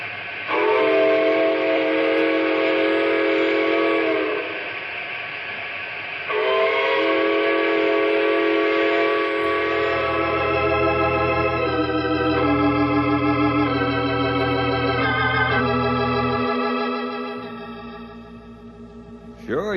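A repaired steam train whistle sounds in long, chorused, multi-tone blasts, loud and close, sustained for many seconds, with a low rumbling rail hum joining partway through; no talking.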